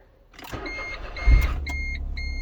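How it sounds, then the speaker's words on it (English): A Smart car engine cranks and fires up, then settles into a steady idle, with a thump at the catch and high electronic dashboard beeps chiming over the low running engine, close up and without talk. "Actually, it's idling a lot, not as rough as it was before."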